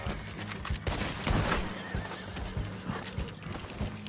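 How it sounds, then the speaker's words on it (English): A horse in the video game Red Dead Online neighs loudly with a rising whinny while hooves clip-clop steadily underneath, close and continuous through the scene. "Oh, you stupid horse. Ran right in front of my shot."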